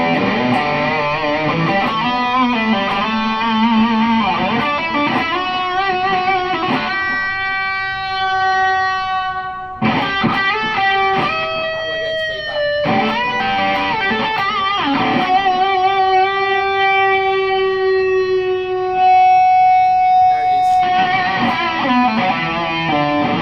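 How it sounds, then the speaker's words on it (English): A heavily distorted electric guitar played through a Marshall Code amp with a distortion model based on the Marshall Guv'nor pedal plays sustained chords and ringing notes, thick and saturated, continuous with brief changes between phrases. "the distortion pedal we're using is based on the Marshall Governor."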